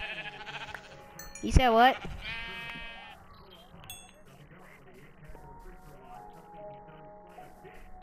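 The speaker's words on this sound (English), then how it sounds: "A whole bunch of sheep" A Minecraft sheep lets out one loud, wavering bleat near the start, then fainter game sounds follow while a player briefly talks.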